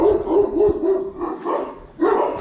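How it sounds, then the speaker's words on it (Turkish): Several dogs bark repeatedly in uneven bursts, fairly close, overlapping one another with a low hum underneath. "Köpeklerin sesi geliyor kusura bakmayın"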